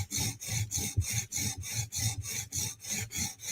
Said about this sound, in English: Steel is sharpening really easy, and the stone is fresh